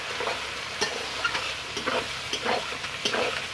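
Chopped onions fry in hot oil with whole spices like cardamom, black pepper, mace and bay leaf, a steady close sizzle punctuated by rhythmic scraping stirs of a spoon against the pan, no talking.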